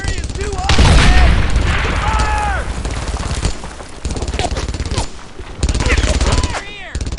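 Machine gun fire in the Brothers in Arms 2 video game, loud sustained bursts of rapid shots and heavy booms close by, with a shouting voice over the gunfire.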